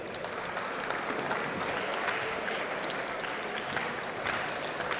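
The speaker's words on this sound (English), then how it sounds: "Give them a round of applause." Crowd applause at a university engineering design competition, a steady, even wash of clapping from an audience lasting the whole stretch, with no voices on top.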